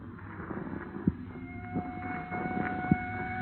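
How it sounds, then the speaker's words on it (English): Police car sirens wail in a radio drama, a thin steady tone sitting under a muffled background with a few dull thumps, fairly distant and without speech. "What is there about police drivers? Even out in the country, they got to lay on those sirens."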